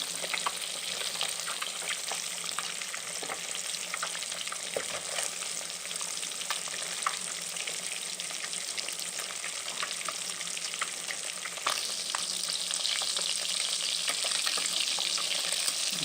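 Fish fries in a pan over a low-to-medium flame, with a continuous, even sizzle and crackle throughout and a few faint clicks and shifts in the oil.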